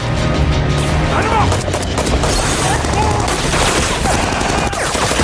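Heavy, continuous gunfire rages in a movie shootout between police and killers, with automatic bursts and booms, and a voice is faintly heard under the barrage.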